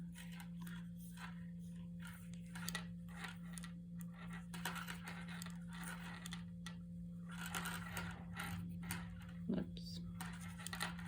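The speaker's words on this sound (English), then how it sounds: "So I'm going to knit this row" Metal knitting needles with cables work a row of yarn, making a steady run of soft close clicks and light scrapes over a constant low hum.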